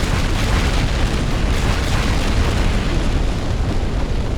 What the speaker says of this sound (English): And look, it's dropped a bomb. Watch it fall down.